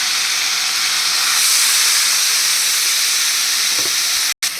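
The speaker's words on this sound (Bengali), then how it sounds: "এবার আমি এইটার মধ্যে কিছুটা জল দেবো।" Water hits a hot pan of drumstick curry with potato and lentil dumplings, giving a loud, steady steam hiss that holds evenly for several seconds before cutting off briefly near the end.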